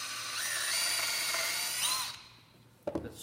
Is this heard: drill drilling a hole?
yes